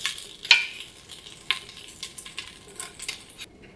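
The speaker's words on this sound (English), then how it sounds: "after you add your oil and your garlic and ginger, give it a good sear for 1 minute" Garlic and ginger searing in oil, a light crackling sizzle with a couple of sharp metallic clinks of a utensil on the pan, near and moderately quiet before it cuts off.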